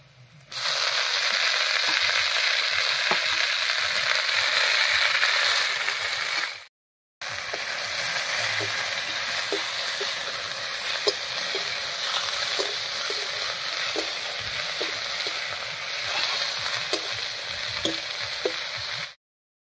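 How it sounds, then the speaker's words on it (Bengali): Drumstick leaves hitting hot oil with reddened fried onion, garlic and chili, a loud dense sizzle that cuts out briefly, then continues with repeated light stirring taps. "এবার সজনে পাতাটা দেবো।"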